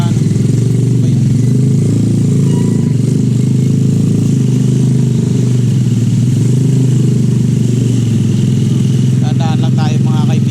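A motorcycle engine drones loudly and steadily while riding, the bike having a mechanical problem, with wind rush and a brief horn-like tone near the end under occasional talk.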